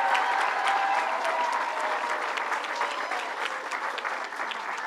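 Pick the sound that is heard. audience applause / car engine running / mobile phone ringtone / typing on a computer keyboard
audience applause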